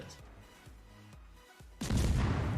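Guns on the Z-44 destroyer firing in a naval video game, a few muffled thumps over a low engine drone, followed by a loud sustained burst of firing noise near the end.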